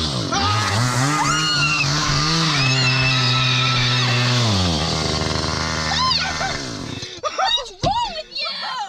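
A chainsaw roars loud and close inside a car, its engine pitch rising and falling as the throttle is worked, then cutting off abruptly into a burst of startled, overlapping voices.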